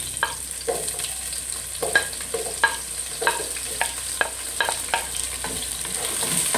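Onions fry in a pan for a Filipino-style chicken biryani, a constant sizzle punctuated by regular stirring scrapes and clicks every half second or so, close and moderately loud with no talking.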